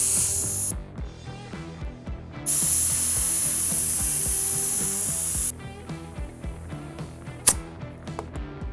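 Air hisses from a tire inner tube on an abandoned airplane's wheel as it is let down and pumped back up, heard as two sustained hissing stretches under steady background music.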